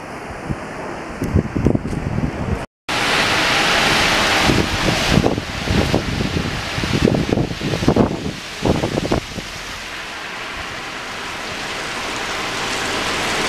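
Loud gusting cyclone wind roars across the microphone with rushing, rustling bursts, easing into a steady hiss of falling rain.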